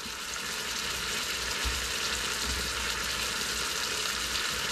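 Shredded beef browning in a pressure cooker alongside jalapeno and onion, giving a steady, close sizzle with a hiss of frying that holds evenly throughout and has no speech over it.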